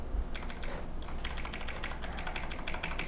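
Rapid clattering keystrokes on a computer keyboard, typed close and steady in quick irregular bursts while gaming, with no talking.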